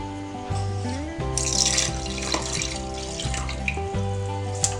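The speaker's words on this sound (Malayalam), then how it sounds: "ഇത് ഞാനിതിപ്പോൾ തേങ്ങയുടെ 2ാം പാലാണ് ഒഴിച്ചു കൊടുക്കുന്നത്" Second-extract coconut milk is poured into a fenugreek and jaggery payasam, a continuous close liquid pour heard over steady tonal background music.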